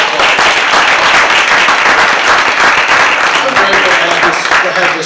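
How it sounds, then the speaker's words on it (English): Audience applause fills a church gathering honoring a group at the front, dense sustained clapping from many hands, loud and steady throughout with some crowd voices mixed in. "This whole group up here, let's give them a round of applause."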